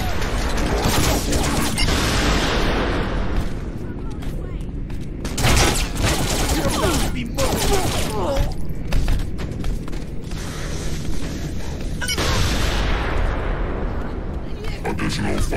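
Saints Row 4 gunfire rattles in sustained, loud volleys with clanking mechanical noise and crashes, mixed under frequent talking.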